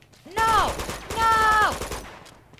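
Gunfire in Uncharted 2 rings out in two dense bursts about a second apart, each a loud, close clatter with a ringing, tonal tail that drops in pitch, followed by quieter scattered noise.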